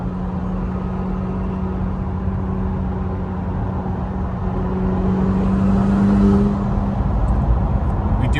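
A McLaren 720S on a 1000-hp performance build, running on 93 octane, holds a steady, loud engine drone that swells into a brief rev before settling again. No separate exhaust pops stand out.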